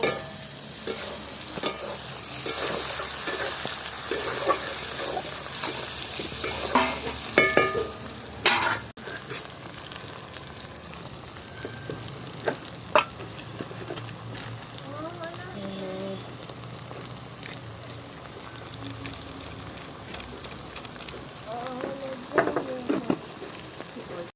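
Onion, tomato and Kashmiri chilli masala frying in a pan for a fish curry, a continuous sizzle with repeated spatula stirs and scrapes, close and steady, with occasional faint talk.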